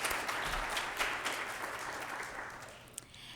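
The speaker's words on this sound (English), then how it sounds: "give one more really hearty round of applause for these nursing graduates" Audience applause for graduates at a practical nursing pinning ceremony, a steady wash of many hands clapping in a large room that gradually thins out toward the end.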